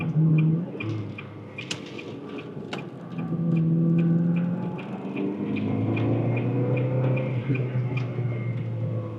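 Engine of a 2004 Ferrari 360 Spider downshifting through the gears, a steady low drone that swells and shifts pitch with rev changes, with ticking clicks running through it and no talk.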